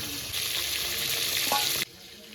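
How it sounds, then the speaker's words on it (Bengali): A fish head and tail fry in hot oil until crisp, giving a steady close sizzle that cuts off abruptly near the end, leaving a quiet hiss. "মাছের মাথা আর লেজাটা একটু কড়া করে ভাজতে হবে"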